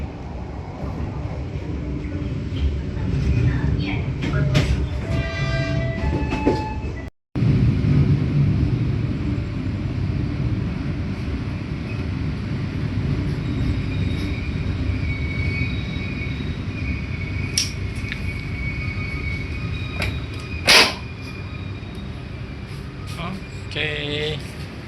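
A train pulls into Lempuyangan station in Yogyakarta, its steady low rumble running throughout with brief high squeals and clanks, broken by one sudden drop near the middle, while a voice talks over it.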